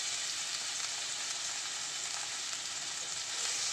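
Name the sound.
garlic added to frying pan, sizzling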